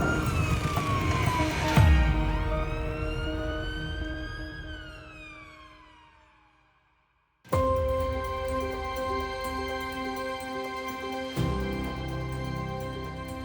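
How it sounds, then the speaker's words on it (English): UK ambulance siren on an emergency run with blue lights, a loud sweeping wail that dies away, then after a brief silence a steady, insistent siren tone returns with road noise. "Blue lights and sirens as fast as they possibly can."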